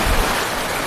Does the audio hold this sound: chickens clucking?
no